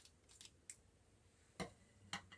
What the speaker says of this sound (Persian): نوکش رو قیچی میزنم،